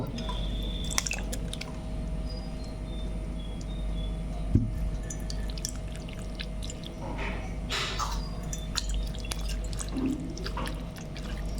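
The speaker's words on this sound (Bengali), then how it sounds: "জামের দানাগুলো যেন আলাদা হয়ে যায় আমি এবার এটা ছেঁকে নেব" Java plum (jamun) pulp is pressed and strained for juice, with soft wet squishing and intermittent dripping into a container, close and moderately quiet, over a low steady hum.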